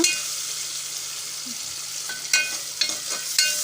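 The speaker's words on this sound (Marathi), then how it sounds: "अशी परतून घ्यायची" Tomatoes sautéing in a pan for Schezwan chutney give a steady broadband sizzle, broken near the end by a few sharp scrapes and knocks of a spatula stirring them. No one speaks.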